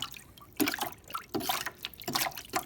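Water with sediment swirled and sloshed in a bin, splashing and trickling in a few uneven bursts, close and moderately quiet.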